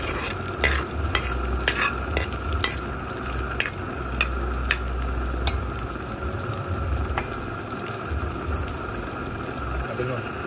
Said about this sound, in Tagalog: Hanggang brown lang po yung bawang.